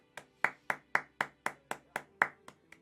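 Close, crisp hand claps in a steady rhythm, about ten sharp claps spaced evenly, the last couple a bit softer, with no talking.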